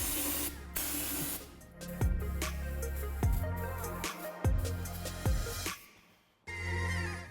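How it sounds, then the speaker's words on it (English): Brake cleaner aerosol sprayed onto the lower part, ring gear and carrier of a Dana 44 differential on a Jeep Wrangler JK, loud close hissing bursts in a steady series with short pauses between, no talking. "I'm going to clean this lower part off with a little bit of brake clean"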